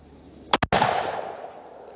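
A 220 Swift rifle firing V-Max ammunition outdoors in hot weather gives a sharp, loud crack with a brief echo, followed by a rolling decay that fades over about a second, with no voices.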